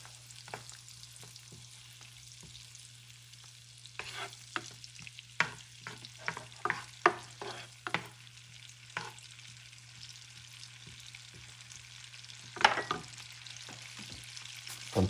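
Butter melting in a pan for a garlic shrimp sauce, with quiet sizzling and scattered stirring scrapes and clinks over a steady low hum, no talking.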